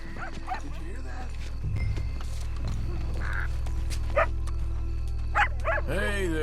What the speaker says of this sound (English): For Christ's sake, it's just a dog.